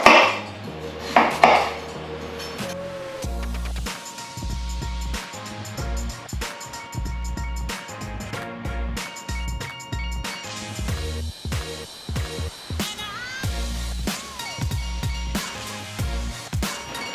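Peeled potatoes are cut in a home kitchen, with sharp knife knocks on a board and clattering of utensils and dishes, some louder clanks at the start, then a steady irregular patter of cuts.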